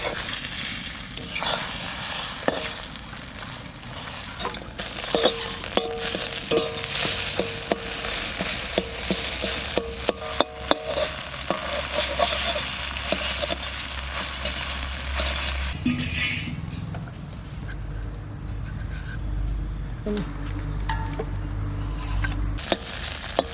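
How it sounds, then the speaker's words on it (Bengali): Chopped egg fries in a pan for a bottle gourd and egg dish, a loud continuous sizzle broken by frequent spatula scrapes and stirring clacks, with the tone thickening partway through, no talking. "ডিমটা কুচি কুচি করে ভেজে নেব"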